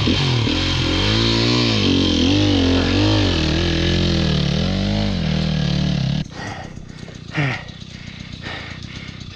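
An enduro dirt bike engine revs loud and close on a hard enduro trail, its pitch rising and falling for about six seconds before cutting to quieter clattering and scraping noises.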